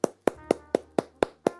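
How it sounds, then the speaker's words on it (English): A single person clapping hands at a steady pace, seven sharp claps about a quarter second apart, close and clear with no talk over them. "he's clapping"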